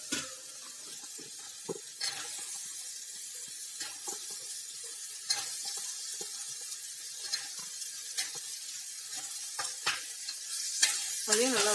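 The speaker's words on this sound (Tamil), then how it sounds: "இதையும் நல்லா வதக்கிடலாம். உருளைக்கிழங்கு சேர்த்துடலாம்." Potatoes sautéing in a pan with a steady soft sizzle, broken by repeated scraping stir strokes at irregular intervals, close and fairly quiet, with no talking.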